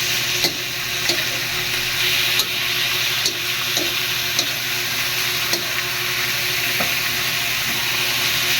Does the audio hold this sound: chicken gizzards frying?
yes